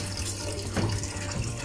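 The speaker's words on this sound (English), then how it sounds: "the water is getting in, as you can see." Water runs steadily into the tub of a twin-tub semi-automatic washing machine, a continuous close, rushing fill with no talking.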